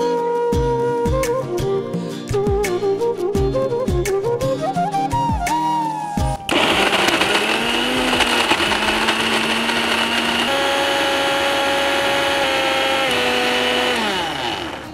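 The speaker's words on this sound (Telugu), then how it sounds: "సో దీంట్లో కాస్త వాటర్ వేసుకొని మిక్సీ చేసుకోవాలి." A mixer grinder whirs as it blends jaggery with water, starting in short pulsed bursts before settling into a loud, continuous high-pitched motor drone that shifts pitch as the load changes.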